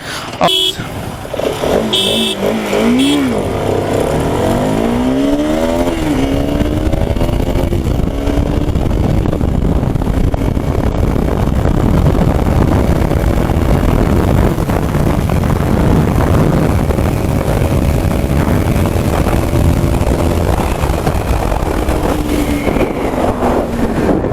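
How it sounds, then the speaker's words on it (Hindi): R15 V4 and RS 200 motorcycles in a drag race, loud engine roar with rising and falling revs and gear shifts throughout, heavy wind buffeting on the microphone and brief voices early on. "तो अभी R15 V4 से हम लोग ड्रैग रेस करेंगे, तो आपको दिखाते हैं कि R15 और RS 200 में कितना पावर डिफरेंस है।"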